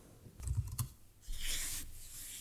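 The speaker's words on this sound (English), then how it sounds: "I start typing and I fast forward." Typing on a computer keyboard produces a short burst of clicky key taps, followed by a brief rubbing, brushing noise, faint and close with no voices.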